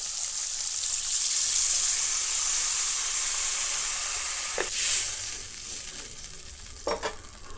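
Shukto vegetables sizzle and hiss quietly in a pan after water is poured in, with a steady soft fizz and a couple of brief clinks of a utensil.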